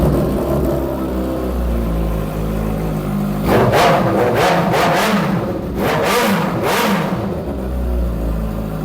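A Honda CG125 motorcycle engine idles with a steady rumble, then is revved hard several times in quick surges before settling back to idle.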